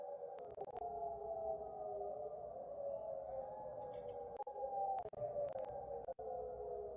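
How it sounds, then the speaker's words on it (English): Air raid sirens near Incirlik Air Base by Adana, Turkey, wail in long, steady, slowly wavering tones from a distance, with a few faint clicks and no talk. "But I only hear air raid sirens."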